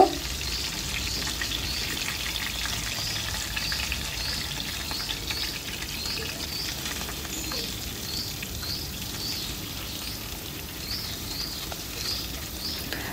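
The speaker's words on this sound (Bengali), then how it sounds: "এখন আমি উল্টিয়ে পাল্টিয়ে আমি 2 পিঠই সুন্দর করে একই রকম করে ভেজে নিব" Steady, continuous sizzling of hilsa fish frying in hot oil, close by and fairly quiet, with no talking.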